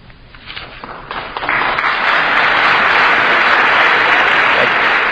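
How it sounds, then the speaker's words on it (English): Applause from a large audience builds quickly, then settles into steady, loud clapping that carries on without a break. "let's hold our applause again"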